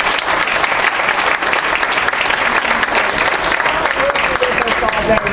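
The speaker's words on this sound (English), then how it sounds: "let's give Cheryl a round of applause" Loud, dense audience applause at an education conference, continuous enthusiastic clapping from a large crowd sustained evenly for over five seconds.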